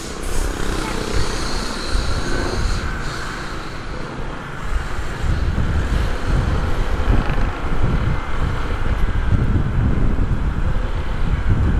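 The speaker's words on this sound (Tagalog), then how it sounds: "Lamig ng simoy ng hangin." Cold wind rushes past during a ride through Tagaytay, buffeting the microphone with a steady, heavy roar and low rumbling throughout, while a voice talks beneath it.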